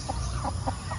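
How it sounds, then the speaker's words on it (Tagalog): Chickens on a farm in Glan, Sarangani Province cluck in a quick series of short, moderately loud calls over a low background rumble. "Ito yung manok sa kabila"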